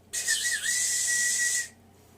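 A steam engine's whistle blows once, a loud shrill tone that wavers slightly at the start and holds steady for about a second and a half before cutting off.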